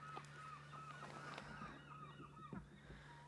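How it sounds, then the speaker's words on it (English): Several gulls call overhead along a Yukon river on a canoe trip, repeated honking cries every second or so, fairly near, over a quiet background with a steady low hum. "Those seagulls mean business."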